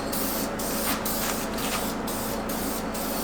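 A spray paint can hisses steadily and close by while painting a 2022 Toyota Tundra grille surround. The broad hiss runs continuously with short rhythmic dips about every half second.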